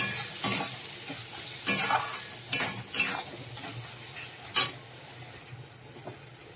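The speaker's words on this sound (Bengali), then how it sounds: "দিয়ে এবারে মশলাগুলো ভালো করে কষিয়ে নেব" Chili powder, turmeric and ground cumin stir-fried in a pan for a prawn paste dish, a steady low sizzle broken by several scraping stirs of a spatula against the pan, close and fairly quiet with no talking.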